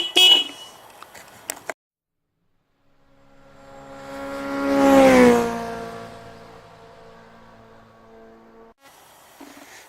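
A vehicle sweeps past from far to near and away again, swelling to a loud peak midway before fading, framed by short bursts of other noise at the start and end.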